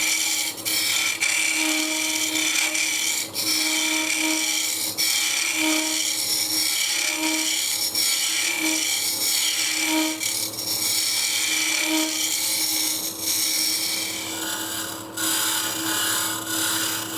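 Steady abrasive whirring of a wood lathe as a large round Easy Wood cutter shaves a spinning wooden goblet, continuous and close, with brief dips where the tool lifts off.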